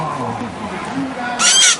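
A northern cardinal gives a brief, shrill stress call up close, following low murmuring sounds.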